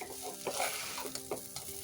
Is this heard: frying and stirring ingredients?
yes